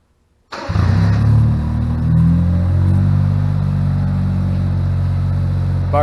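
A 1992 Honda Beat's small engine cranks and catches at once from cold after a moment of silence, then settles into a close, steady, loud idle.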